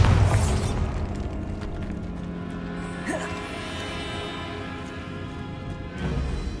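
A Bombarda spell detonation in Hogwarts Legacy, a blast burst at the start followed by a quieter rumbling tail and debris, with game ambience and a smaller burst near the end.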